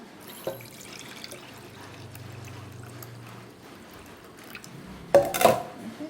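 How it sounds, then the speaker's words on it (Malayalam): Water is poured off soaking rice and rava in a container, with a low trickle and then a short, louder splash and gush near the end, no talk. "ഈ വെള്ളം കളയാം"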